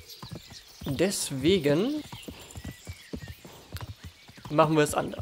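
In the medieval video game Kingdom Come Deliverance, a horse's hooves clip-clop in a steady rhythm under someone talking, with the horse whinnying twice.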